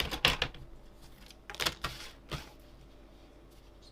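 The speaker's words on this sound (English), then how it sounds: "So I'll just cut it from the card blank." A card topper being trimmed off a card blank, a few sharp close clicks and crisp cuts in short bursts with quiet gaps between, no talking.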